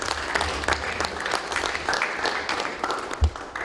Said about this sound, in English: Let's clap a hand for Sue.